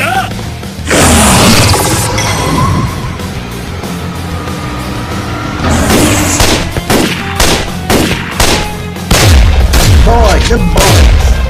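Gunfire from an anime vampire fight scene, with a dense stretch of rapid shots and booms followed by repeated sharp, loud bursts. Music and sound effects are layered in the mix.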